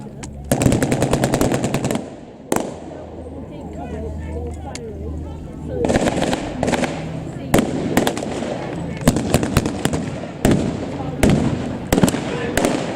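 Rapid bursts of machine-gun and rifle fire crack out during a WWII battle reenactment at Blaenavon as troops advance on cottages, with dense irregular volleys across the scene and a commentator speaking between and under them.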